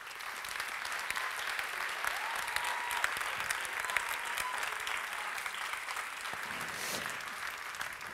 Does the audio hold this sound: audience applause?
yes